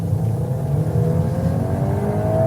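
A 2021 Volkswagen Golf R engine accelerating, a loud steady drone whose pitch climbs smoothly across the span, heard close with no voices.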